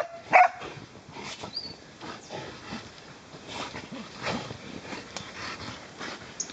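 A hunting dog after a boar gives a sharp bark near the start, then whimpers and whines in short, uneven bursts close by, with faint background noise and no clear talk.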